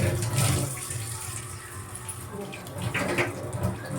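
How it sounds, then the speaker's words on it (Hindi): Water gushes from a pipe into a rooftop tank in a steady rushing stream that swells and dips in strength, with a voice speaking faintly underneath. "कम आ रहा है पानी, बंद हो गया पानी।"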